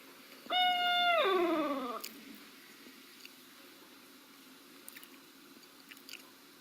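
A barred owl gives one loud, wavering call that slides downward in a laughing cackle, then fades, leaving quiet outdoor ambience with faint distant sounds, in New Hampshire.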